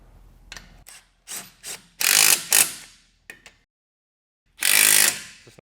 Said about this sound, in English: I'm going to go ahead and tighten down all the bolts on the end of the frame rail